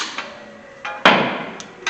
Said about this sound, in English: I grab my hammer and pop the end.